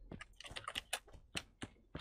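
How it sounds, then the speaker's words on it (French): Typing on a computer keyboard during an online game session, quick irregular key clicks close up and fairly faint, without talk. "Ton clavier."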